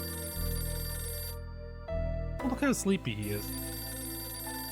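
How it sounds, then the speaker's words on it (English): A telephone rings in the video game Last Window: Secret of Cape West, cutting off briefly and then ringing again, with a person talking over the later part. "That damn phone again."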